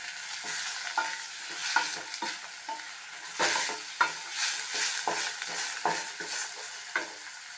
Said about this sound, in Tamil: எல்லாத்தையும் ஒன்றா சேர்த்து நல்லாவே வதக்கி விட்டுக்கணும்.